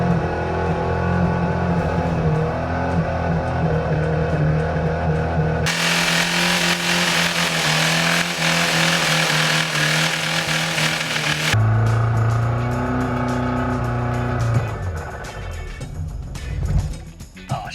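A car engine running on candle wax in place of oil is held at redline, a loud sustained rough roar with shifts in tone partway through, then dropping and sputtering near the end.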